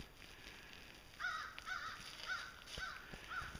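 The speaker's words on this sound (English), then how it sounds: "That was a crow. He just flew off that way." A crow at Pickett State Park's natural bridge caws five times in an evenly spaced series, moderately near, over a steady outdoor hiss with no talking.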